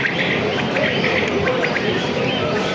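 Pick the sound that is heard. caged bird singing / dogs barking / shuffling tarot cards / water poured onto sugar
caged bird singing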